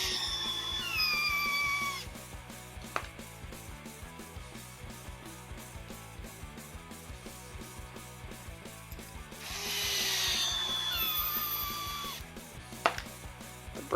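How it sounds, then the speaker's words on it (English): Lunsford screws squeaking as they are driven into a new shock tower bulkhead on a Tekno EB48 2.1 RC buggy, faint high squeals near the start and again in the middle over a quiet repetitive background hum. "Sometimes the screws, they'll be singing on their way in, if you can hear that."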